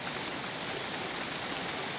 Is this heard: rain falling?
yes